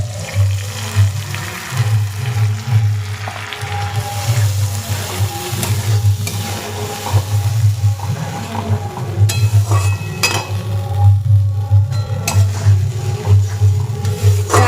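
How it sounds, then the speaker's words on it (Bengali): Cashew, poppy seed and green chili paste sizzles and fries in hot oil with spices as a vegetarian pointed gourd dish cooks, under a steady loud hiss with occasional scraping stirs of a spatula in the pan. "এরপর দিয়ে দিচ্ছি কাজু পোস্ত আর লঙ্কার পেস্টটা"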